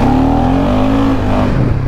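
An ATV engine revs hard and steady as the rider tries a wheelie, a loud, close tone that rises slightly and then dips near the end.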